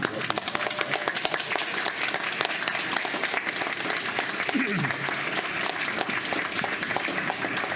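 People on a stage and an audience applaud one another: loud, steady clapping from a crowd lasting several seconds, with voices murmuring beneath the clapping.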